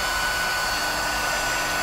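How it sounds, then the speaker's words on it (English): A bitcoin mining rig with two boards runs on a single cooling fan, giving a steady, loud, close whooshing roar with a faint constant whine and no talking. "so it's only running on one fan, and I only have just two boards"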